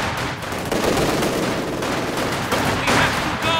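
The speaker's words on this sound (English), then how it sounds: "Enemy machine gun!" Enemy machine gun fire in Company of Heroes 2 winter defense, steady loud rattling bursts mixed with other battle noise.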